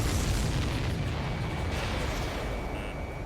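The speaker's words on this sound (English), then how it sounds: "Did you see that explosion?" A dense, rumbling burst of noise like a distant explosion in the video game Ace Combat 7, fading slightly over a few seconds.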